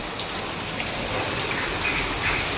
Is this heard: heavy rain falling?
yes